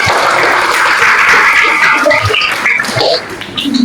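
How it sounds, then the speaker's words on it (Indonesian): A class of ninth-grade schoolchildren clapping together in a classroom, a loud, dense wash of rapid hand claps that carries on steadily and thins slightly near the end, with no voices over it. "Oke, tepuk tangan."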